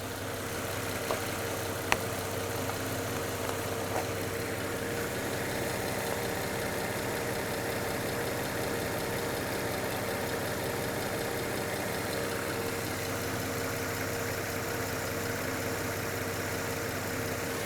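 A Volvo XC90 with the 3.2-litre inline-six engine idles steadily just after start-up during a radiator refill, a close, even mid-low hum running unbroken throughout with a faint tick near the start.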